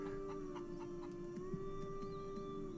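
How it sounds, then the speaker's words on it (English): A chicken clucking in short bursts over a steady hum, with a constant tone running throughout, from a Ninjago cartoon episode. "Oh, the chicken's back!"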